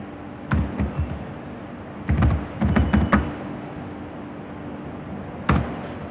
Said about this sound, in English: Now I will type manufacturers here.